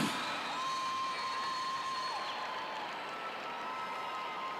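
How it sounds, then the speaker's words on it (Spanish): Crowd applause and cheering for the Tamesis troupe at the Donostia carnival, a broad steady wash of clapping heard from a distance with a faint whistle-like tone running through it. "Fuertes aplauso para Tamesis"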